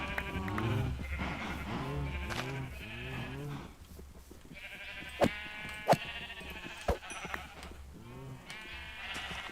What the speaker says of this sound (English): we kill off every last one of the sheep